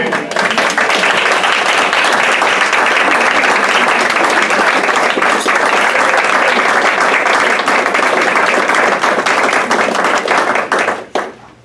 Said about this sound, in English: please stand up and we'll give you a nice round of applause